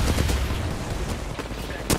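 Rapid bursts of gunfire from the battle royale shooter Apex Legends during a ranked match, loud and sustained with sharp crackling reports and a heavier shot near the end, and no talk over it.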